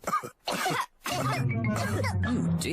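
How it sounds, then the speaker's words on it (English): Cartoon grown-up characters cough loudly and up close, a few harsh bursts in quick succession broken by short pauses, with voiced throat-clearing sounds mixed in. "Oh dear, all the grown-ups have caught Pedro's cough."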